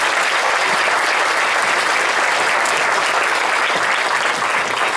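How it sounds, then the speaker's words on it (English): Sustained, dense applause from a dinner-and-dance crowd at a chamber of commerce annual dinner, loud and even throughout with no pauses or talk. "give this group a round of applause"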